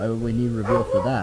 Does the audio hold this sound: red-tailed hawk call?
no